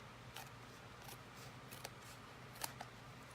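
Scissors trimming paper for a handmade card, a few quick crisp snips spread across a few seconds, faint and close against a quiet room, with no voices.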